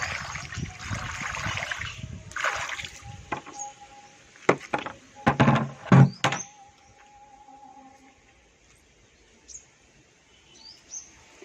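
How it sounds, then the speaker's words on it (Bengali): Water splashes and pours onto a rooftop in several short, loud bursts, then gives way to quiet with faint birds chirping in the background. "এবার আমি একটু ছাদে জল ঢেলে দেবো।"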